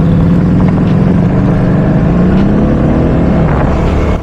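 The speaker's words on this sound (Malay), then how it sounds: "Korang boleh dengar kan bunyi exhaust dia tu, slow je. Sebab ni exhaust standard" A Modenas NK Lite 250 naked motorcycle with its stock exhaust idles slowly, a steady low, loud engine burble held close throughout with no talk over it.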